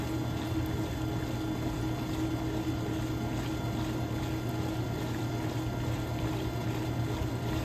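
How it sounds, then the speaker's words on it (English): A pool pump draining water with a steady mechanical hum and continuous gurgling, bubbling flow, loud and unbroken throughout with no voices. "Pump is making noise."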